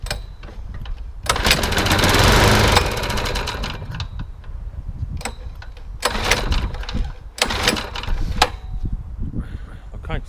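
A Suffolk Punch Qualcast lawn mower engine, left a year in a shed, is pull-started with the choke on. It fires into a loud, rough running roar, then sputters and revs in uneven bursts.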